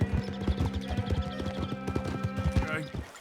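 Horse hooves clip-clop at a steady trotting rhythm on a trail near Moonstone Pond in Red Dead Redemption 2, close and fairly loud, with a brief whinny near the end and people talking over the hoofbeats.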